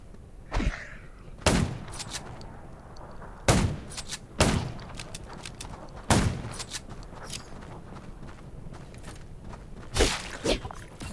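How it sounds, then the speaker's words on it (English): Several loud gunshots crack out at irregular intervals over a low rumbling soundscape in the survival game Garena Undawn, some landing as single blasts, others as quick pairs. "Gunshot."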